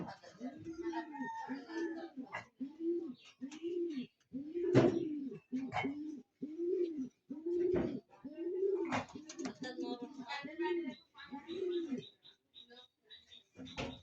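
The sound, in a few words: pigeon cooing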